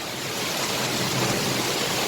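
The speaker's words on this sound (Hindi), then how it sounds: "भयंकर बारिश हो रही है।" Heavy rain pours steadily and loudly, a dense unbroken wash of hiss with no voices over it.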